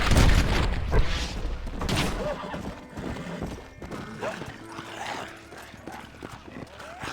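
Horse in the video game Red Dead Redemption, Undead Nightmare expansion, clip-clopping at speed with loud hoofbeats and a clear neigh, alongside occasional distant booms that may be gunfire.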